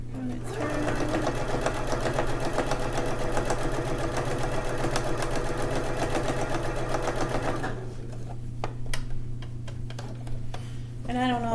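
A sewing machine runs steadily and close, stitching shut a homemade baby blanket, then stops, leaving scattered clicks and light handling sounds. A voice speaks briefly over the running.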